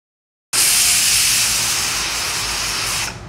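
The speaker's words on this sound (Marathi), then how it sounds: "आता आपल्याला घ्यायच्या आहेत 2 शिट्ट्या।" A pressure cooker cooking khichdi lets out a loud, sharp blast of whistling steam that bursts on suddenly after a moment of silence, holds steady for about two and a half seconds, then cuts off.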